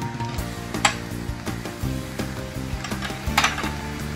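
Noodles frying in a hot pan for veg Hakka noodles hiss and sizzle as vinegar goes in, with a few sharp spatula or utensil clinks against the pan at irregular moments.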